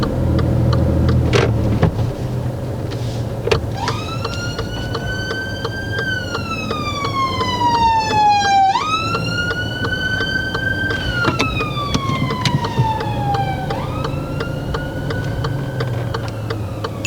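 An emergency vehicle siren wails loudly and steadily, sweeping up and down in repeated cycles over a car's engine and road noise, heard from inside a learner driver's car during a driving test.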